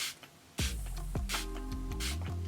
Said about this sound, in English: I'm going to take the Revolution Pro Fix Illuminating Spray and I'm just going to spritz my face with this